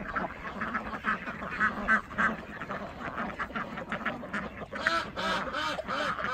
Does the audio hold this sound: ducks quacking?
yes